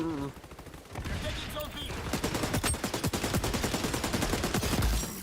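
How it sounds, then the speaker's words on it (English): A rapid, steady stream of automatic gunfire from an xDefiant video game match, loud and close, rattling on continuously for several seconds over other game sounds. "I released the shoot button a while ago, but it still kept shooting."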